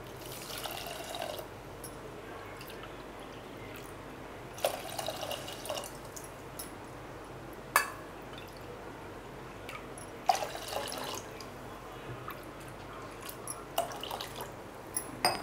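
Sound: pouring water into a pot

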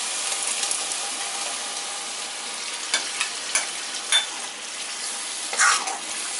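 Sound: spinach puree added to hot pan, sizzling

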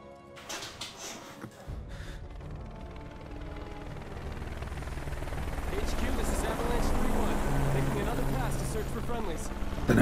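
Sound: helicopter in Final Fantasy 7 Remake video game

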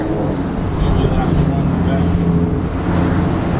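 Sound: car with custom cat-back exhaust

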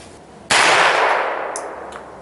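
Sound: airgun fired with nail gun blank at target

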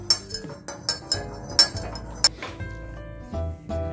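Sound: stirring herbal tea in a cup

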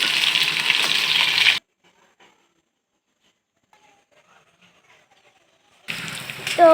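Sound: tilapia fish frying in a pan, being flipped

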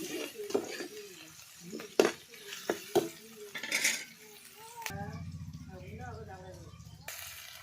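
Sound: sautéing ginger and garlic in a pan

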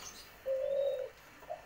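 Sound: white collared doves and spotted doves cooing

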